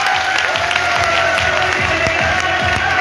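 An audience at a business seminar claps continuously, a dense, fairly loud wash of applause with some crowd murmur mixed in.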